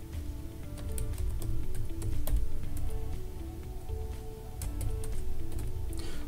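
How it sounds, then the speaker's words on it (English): Rapid keystrokes on a computer keyboard, typing out an IP address on a steady stream of close, light clicks over a constant background hum, with no voices. "So I'm going to type that in here"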